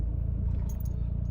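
Noisy gearbox of a car crawling through traffic near Astley on the East Lancs road, heard as a short, steady low rumble from inside the car with no talk.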